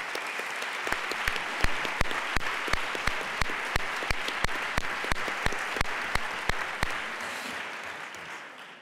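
A graduation ceremony crowd applauds, settling into sharp, regular rhythmic clapping in unison over a broad wash of hands, then thins and fades near the end.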